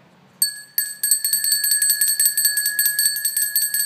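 A bright chased bronze hand bell rings close by, struck repeatedly in a quick, uneven jangle with long shimmering overtones after a brief quiet start.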